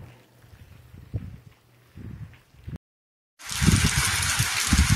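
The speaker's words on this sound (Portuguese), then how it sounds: "Aí, galera, chuva caindo." An evening rain shower in the dry backcountry of Boa Saúde, Rio Grande do Norte, makes a loud, steady hiss that begins abruptly after a brief silence and continues close to the microphone.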